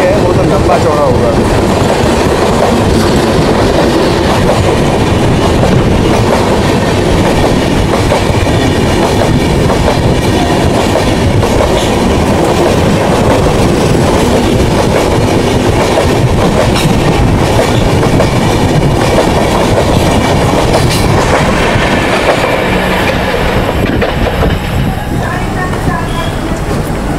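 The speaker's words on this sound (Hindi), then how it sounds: "हमारी ट्रेन पार कर रही है पुष्पक को आउटर पे इटारसी के" A passenger train runs on rails near Itarsi while passing the Pushpak Express, giving a loud, continuous rumble with clickety-clack wheel noise throughout and a slight easing near the end.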